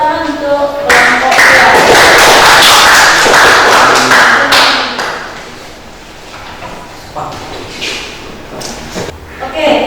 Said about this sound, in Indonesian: Silakan kembali tepuk tangan untuk kelompok